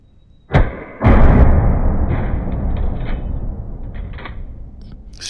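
A Winchester 94 lever-action rifle is cycled, giving a sharp metallic clack followed by a louder mechanical snap and a rattling, ringing tail as the action works. The sound is close and loud with no talking.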